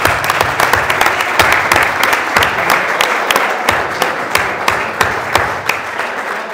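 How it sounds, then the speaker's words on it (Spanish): An audience at an art exhibition opening applauds, a thick crowd clapping layered with a loud, regular beat of hands striking in time, sustained steadily for several seconds. "un aplauso"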